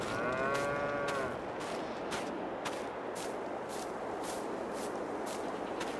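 Cattle in a Farming Simulator 22 barn moo loudly and repeatedly near the listener, over a steady low rumble of ambient noise and soft shuffling.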